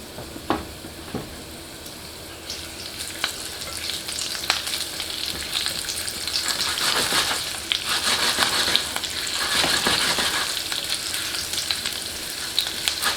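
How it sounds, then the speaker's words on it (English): Whole spices crackle and sizzle in hot oil for masoor dal, a steady close frying hiss with scattered sharp pops and occasional stirring clinks throughout. "we're infusing the oil with all these flavors now"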